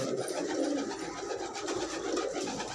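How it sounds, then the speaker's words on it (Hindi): Fancy pigeons coo softly and continuously in a loft in Trilokpuri, a dense murmur of overlapping calls with steady background noise throughout. "ये कबूतर कुछ फैंसी जो हमने रोक लिए हैं"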